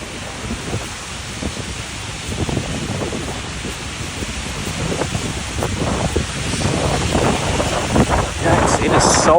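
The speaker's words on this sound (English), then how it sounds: "it is so windy on this bridge" Strong gusts buffet the microphone on a Brooklyn bridge during a rainy afternoon walk, a constant rumbling roar with rain hiss that grows louder toward the end, a voice briefly heard under it.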